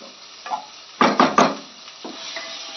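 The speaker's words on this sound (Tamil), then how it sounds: "அரை மூடி தேங்காயும் இதில் நல்லா சாட்டிட் பண்ணி நல்லா கிளறி நல்லா வதக்கிறேன்" Grated coconut stirred and sautéed in a pan for chicken curry, a few loud scraping strokes of a spoon against the pan over a soft sizzle, close up and without speech.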